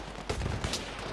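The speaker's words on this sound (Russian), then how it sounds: "Вдаль стреляю." Gunfire in Battlefield 3 on Noshahr Canals, one or two sharp, booming shots in quick succession over a noisy game background, fairly loud and close.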